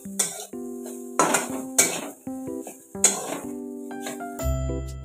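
A metal spoon scrapes and clinks against a pan while fried cauliflower is stirred into spices, with repeated knocks and rattles at an uneven pace, close and clear, over a steady background hum.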